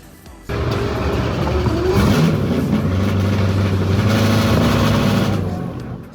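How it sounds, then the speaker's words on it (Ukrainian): A drift car's engine revs hard and steadily at a Ukrainian drift event, loud and close throughout after a quieter opening half second, with a sustained throaty roar and shifting pitch. "трішечки погазувати на цій машинці"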